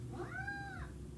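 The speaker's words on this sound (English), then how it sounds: "Okay, Meow wants to say hello" A cat gives a single clear, drawn-out meow, rising and then falling, up close in a quiet indoor room with a low hum underneath.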